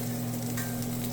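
Onions and tofu sear in a pan with a continuous sizzling hiss over a steady low hum, close and even throughout.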